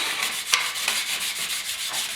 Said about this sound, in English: a little bit of a scuff cloth helps with that etch